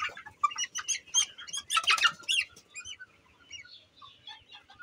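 A Sonali chicken is caught and darts about nearby, with bursts of squawking, clucking and flapping wings that come in quick, uneven spurts before easing into softer calls.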